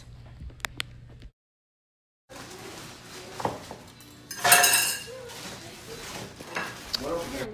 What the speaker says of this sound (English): First, I start off by filling the blender halfway with ice.